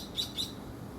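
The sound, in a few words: bird chirping in the garden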